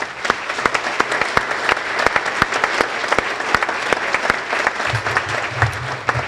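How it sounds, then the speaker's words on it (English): A university audience applauds standing foundation board members, loud sustained clapping with sharp individual claps standing out, and a faint voice murmuring briefly near the end. "we could give them a round of applause"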